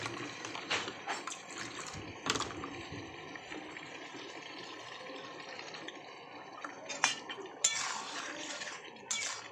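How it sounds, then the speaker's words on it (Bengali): Water from a rinsed spice bowl poured into spice paste during Bengali home cooking, a soft splashing trickle with intermittent clinks of dishes and utensils nearby. "একটু মশলাতে জল দিয়ে দেব, মশলার বাটিটা ধুয়ে।"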